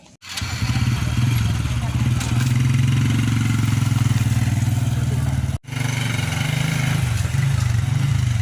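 A motorcycle engine runs steadily close by, a loud continuous low rumble that cuts out briefly near the middle and resumes, with people talking over it.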